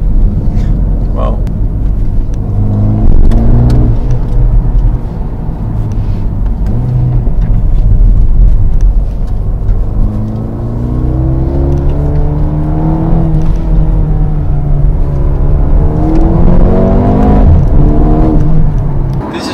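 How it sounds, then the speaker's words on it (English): Mercedes-AMG GLB 35 4MATIC in comfort mode driving a winding road at night, a steady low engine and exhaust drone rising and falling in pitch with the throttle, running continuously beneath someone talking throughout. "This is a night drive with the Mercedes AMG GLB 35, currently in the comfort mode."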